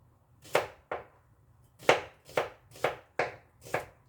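A knife slices through an onion on a board, giving about seven sharp, separate chops in an uneven rhythm, close and fairly crisp with no talk.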